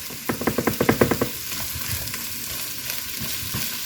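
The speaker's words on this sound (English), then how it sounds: "I want to brown the sausages. I don't want to overcook them, but I do want to get some good brown on them and soften up my onions." Sausages and onions browning in a frying pan, opening with a quick run of rhythmic scraping strokes as the pan is stirred, then settling into a steady close sizzle.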